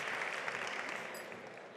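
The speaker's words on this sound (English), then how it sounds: "let's give them one more round of applause our winner of All Energy Day 2023." A brief burst of applause greets the winner of a pitch competition at All Energy Day 2023, an even wash of clapping from a crowd, quiet and steady for under two seconds.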